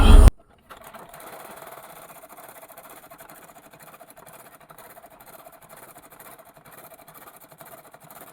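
A sewing machine stitches fabric, running with a steady close mechanical whirr and rapid needle chatter after a brief loud start, continuing evenly to the end.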